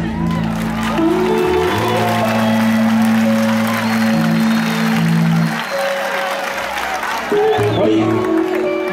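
Loud crowd clapping with cheers rising over sustained music at a religious gathering, applause offered to God, continuous for the whole stretch, lively and close.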